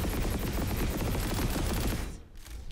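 An H-V45 Hydra gun fires in Planetside 2, a dense, loud stream of rapid shots held for about two seconds, then cut short with a brief echoing tail and a few scattered pops.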